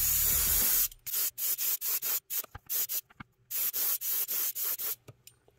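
Spray paint hisses onto a trout fry fishing lure in a rapid series of short, close, loud bursts after one longer opening blast, with brief quiet gaps between each spurt.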